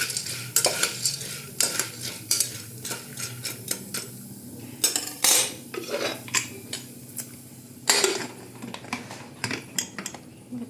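A metal lid clanks onto a pan of popcorn kernels amid repeated sharp clinks and scrapes of cookware, with a low steady hiss underneath; several distinct knocks stand out, the loudest near the middle and toward the end.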